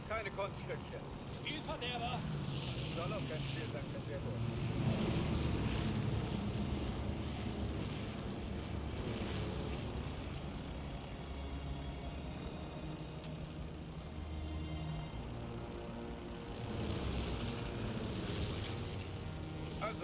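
A propeller fighter plane flies in Call of Duty Vanguard, its engine droning continuously with surging, swelling roar beneath frequent voices talking over it.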